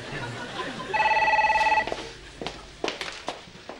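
Office desk telephone ringing in one loud electronic burst of about a second, followed by a few quieter clicks and handset knocks.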